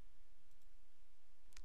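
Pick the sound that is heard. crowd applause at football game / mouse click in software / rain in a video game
mouse click in software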